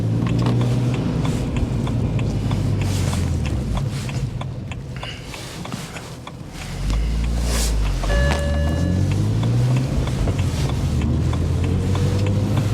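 A BMW 130i hatchback with the N52 straight-six is driven, its engine droning steadily and rising and falling in pitch through gear changes, with road rumble throughout and a brief dip in level midway.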